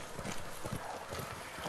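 Horse hooves clip-clopping in a steady rhythm while riding in Ghost of Tsushima, faint and muffled under a noisy background, no talk.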